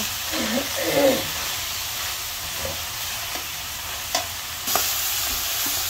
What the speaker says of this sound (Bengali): এখন আমি লাল শাকগুলো দিয়ে দিলাম। আমি ভালো করে নাড়াচাড়া দিয়ে ঢাকনা দিয়ে ঢেকে দিব।